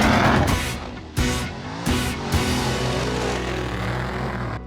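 A Ford F100 desert race truck drives hard with a loud, rough engine roar, and bursts of acceleration rise and fall over rumbling terrain noise, up close.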